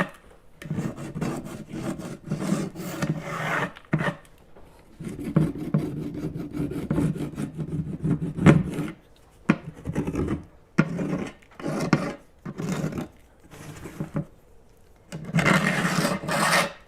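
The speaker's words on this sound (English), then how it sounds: "I'm able to easily scrape off that top layer of the blue paint." Top layer of blue paint scraped off a wooden cabinet, a close, repeated rasping rub in uneven strokes separated by brief pauses, with no talk.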